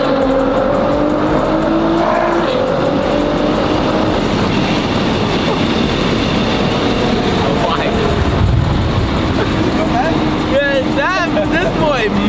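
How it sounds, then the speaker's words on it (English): A Nissan GTR sports car accelerates hard with a loud, steady engine roar and rising gear-shift whines from inside the cabin, while occupants talk and exclaim over it. "we're about to give him a ride in the GTR now,"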